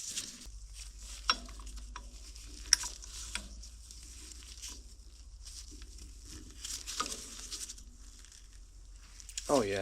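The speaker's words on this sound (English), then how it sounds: "I think I could just use a bearing puller." A bearing puller works a bearing free on a Takeuchi TL26 tracked skid steer, giving scattered sharp metallic clicks and ratchet-like ticks over a low steady background hum, with a louder scrape near the end.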